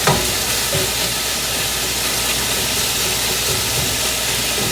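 Shrimp, chicken and vegetables frying in a hot pan, left to brown, give a steady, dense sizzle and hiss that runs unbroken at moderate loudness from start to finish, with no talking.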